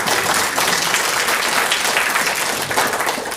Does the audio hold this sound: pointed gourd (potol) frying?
no